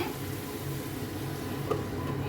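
Chicken frying in a pan, a steady soft sizzle with faint stirring scrapes, continuous and fairly quiet throughout.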